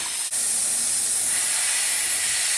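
A Harbor Freight air-powered brake bleeder with auto fill draws brake fluid through a hose from an open bleeder screw, a steady loud hiss of rushing air throughout.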